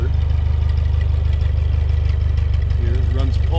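A tractor engine runs steadily with a low, pulsing throb while driving a belt-driven firewood saw off its PTO, loud and continuous, with someone talking over it.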